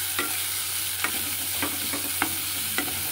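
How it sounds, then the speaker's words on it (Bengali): A spoon stirs masoor dal with turmeric, coriander and cumin powders in a pan, giving about six quiet scraping strokes at irregular intervals over a faint low sizzle, with no voices. "এই 3টে দিয়ে আবার খুব ভালো করে একটু মিশিয়ে নিতে হবে।"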